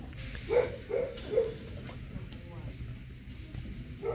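A dog barks and whimpers during on-leash obedience training with another dog nearby, giving a quick run of three short yips followed by a final bark a few seconds later, at moderate distance over low background noise.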